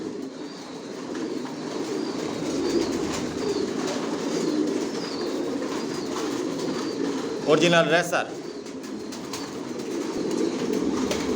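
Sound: racing pigeons cooing in a loft

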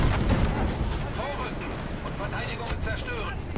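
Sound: tank cannon firing in video game Battlefield 5

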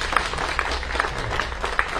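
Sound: applause from campaign rally audience

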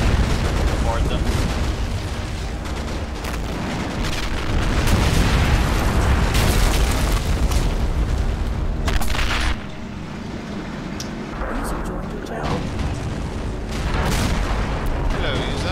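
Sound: KV-2 tank bombardment in video game Men of War Assault Squad 2

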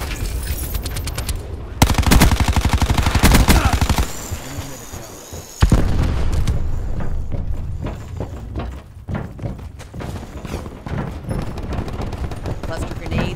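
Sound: cluster grenades exploding amid gunfire in Call of Duty Black Ops 4 video game

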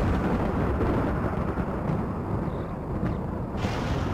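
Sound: thunderstorm in Rimworld video game

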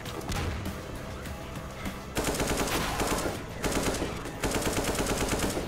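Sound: gunfire in video game Half-Life 2 mod

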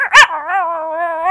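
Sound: person imitating a barking dog

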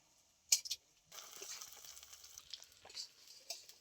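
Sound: pumpkin leaf and lentil fritters frying

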